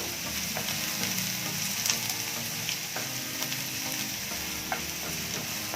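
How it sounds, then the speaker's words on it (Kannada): Chopped onions and curry leaves fry in a hot pan for vegetable masala rice, giving a steady, dense sizzle with faint crackles throughout and no talking. "ಈರುಳ್ಳಿ ಹಾಕಿದ ತಕ್ಷಣನೇ ಈ ಕಡೆ ಕರಿಬೇವಿನ ಸೊಪ್ಪು ಸ್ವಲ್ಪ ಫ್ರೈ ಮಾಡ್ಕೋಬೇಕು"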